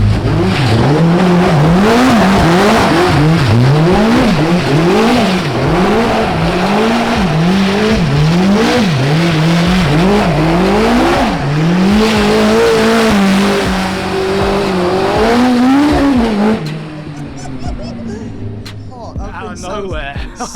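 A Hillman Imp race car engine screams through repeated rising and falling revs, loud and close, then cuts away abruptly near the end to quieter background sounds.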